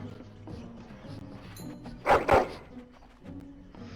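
Two quick, loud dog barks ring out in Dragon Age Origins, standing clearly above a low ambient game backdrop.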